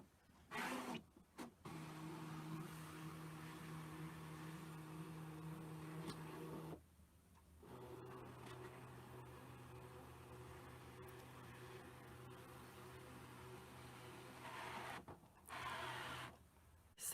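A ScanNCut machine scanning fabric with its scanner lever at 1, a steady motorized whir and hum running for long stretches, broken by short pauses and a brief mechanical shift near the end.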